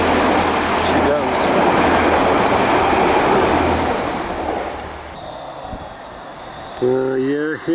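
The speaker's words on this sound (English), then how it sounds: "here comes the 1409 Leicester to Grimsby Town, East Midlands Railway" An East Midlands Railway passenger train, a Leicester to Grimsby Town service, rumbles past close by with loud broadband wheel and engine roar that fades after about five seconds, then a brief tonal whine or squeal near the end.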